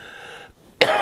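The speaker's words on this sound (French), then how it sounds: "Excusez-moi si je tousse." A single sharp cough bursts out near the end, loud and close, after a brief quiet gap following a faint tone.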